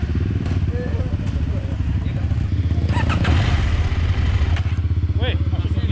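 A new dual sport motorcycle runs with a steady, throbbing engine note close by, rising slightly as it is ridden off, with people talking over the motor and some clatter.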